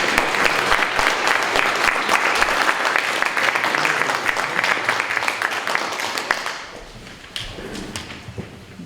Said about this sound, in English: Would you please give the county a big round of applause?